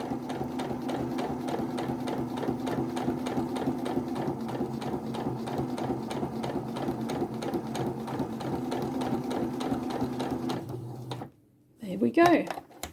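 A sewing machine runs a long, steady straight seam along a 5/8 inch seam guide, its needle chattering in an even rapid rhythm at close range for about eleven seconds, then stopping abruptly before a short, brief voice.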